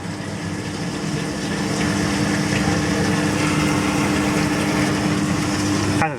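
A Hobart FX 90 commercial dishwasher runs after its pump was replaced, holding a loud, steady hum and pump drone with water noise that cuts off at the end.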